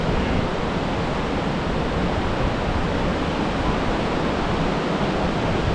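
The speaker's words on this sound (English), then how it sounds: "now the rapids are going to get loud" Niagara River rapids roar below the Whirlpool State Park area, heard from the Aero Car crossing overhead: a loud, steady rush of whitewater, continuous and even throughout, with no voices.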